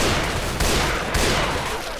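Rapid, dense gunfire in the co-op shooter game Left 4 Dead, loud and continuous, with a couple of sharper bursts standing out from the steady barrage.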